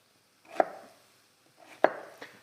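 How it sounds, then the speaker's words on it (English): A kitchen knife chopping through a piece of fish or vegetable on a board, two close crisp cuts about a second apart, each with a short thud, then a lighter third tap. "And then we're just going to chop it a bit like an onion."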